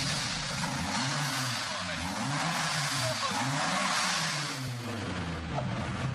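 Audi RS6 engine idling and revving with its exhaust removed, a loud, raw, rasping drone with uneven pulsing swells, close by and continuous with no talk over it.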